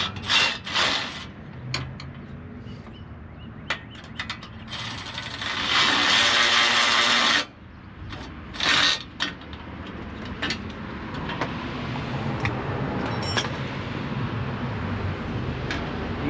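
An air conditioner condenser bracket is tightened during an AC install on an LS-swapped Chevrolet S10, with loud close ratcheting and a long grinding, rasping stretch, then scraping and clicks over a steady background noise.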